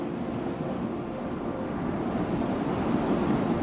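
Ocean surf washing onto the shore near a parked spot, a continuous broad rushing wash with light wind noise, swelling slightly louder toward the end, no voices.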